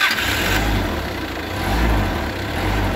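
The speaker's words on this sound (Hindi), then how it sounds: "अभी मैं आपको इसको स्टार्ट करके दिखाता हूँ।" A forklift engine runs steadily after starting, a low continuous rumble idling close by with a slight swell in loudness midway; no one speaks.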